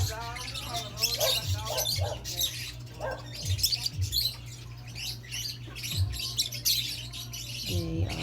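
Caged lovebirds and parakeets chirp in quick, bright bursts, some sharp and some softer, layered over a low steady hum, with a person talking now and then.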